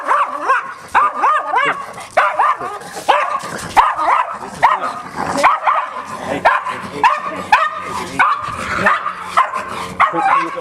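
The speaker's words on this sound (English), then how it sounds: "You can even hear his bark go up." A dog barks repeatedly at close range, loud and agitated. The sharp barks mix with yips and whimpers in an uneven rhythm throughout.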